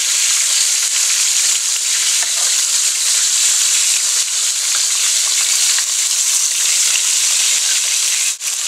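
Chicken pieces just turned over sizzle steadily in hot oil in a pan, a loud, continuous crackling fry that holds near and even throughout.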